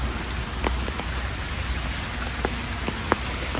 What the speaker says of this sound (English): You can kind of hear the sounds of the rain in the background because it is raining.